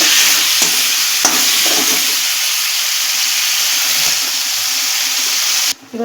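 Potatoes fry in a pan with ginger, garlic, chili, onion paste and cumin, giving a loud, continuous sizzle broken by a few scraping stirs before it cuts off abruptly near the end.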